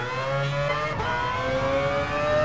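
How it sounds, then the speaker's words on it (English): A Mazda RX-Vision GT3 rotary engine in Gran Turismo Sport revs with a high, buzzing whine, rising steadily in pitch through the gears, alone and fairly loud. "I can already say that I love the engine noise. So yeah, first. Oh, it's a rotary engine."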